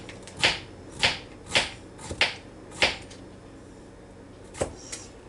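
A knife chops through squash and zucchini on a board in about six sharp, close thuds at a steady pace, followed by a pause and two lighter cuts.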